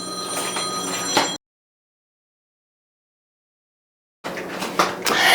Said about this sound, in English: hold please, I have a phone call.